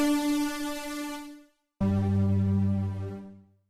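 A Mercury 80 synthesizer plays two separate stabby power-synth chords, each bright and rich in harmonics and fading away slowly over a long decay, with a short gap of silence between them and no voices.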